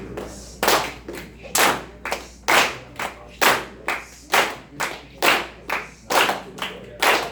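Hands clapping a Ukrainian dance rhythm on beats 2 and 4, about a dozen crisp, loud, evenly spaced claps close by, each ringing briefly, with a faint voice underneath.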